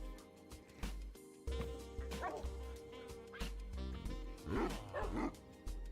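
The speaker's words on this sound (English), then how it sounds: "We got one of the different dog breeds, so they make a lot of noise." Dogs of different breeds in the ChillCraft video game world, giving several close barks, yips and a few whimpers in irregular bursts, loud and alone.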